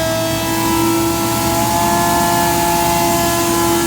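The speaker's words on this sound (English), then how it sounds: "This is our Butler truck mount." A Butler truck-mount carpet cleaning machine runs loud and constant, a steady mechanical drone with sustained whining tones and no change in pitch.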